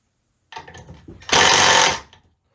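An older Milwaukee M12 impact driver fires close by in a short, loud burst of rapid hammering lasting under a second, preceded by a few light handling clicks.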